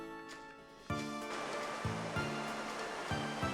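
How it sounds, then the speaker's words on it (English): A video game waterfall from Etrian Odyssey 3 rushes as a dense, loud roar of water with in-game music notes layered over it, continuous and without speech. "Hey guys, are you really enjoying the waterfall?"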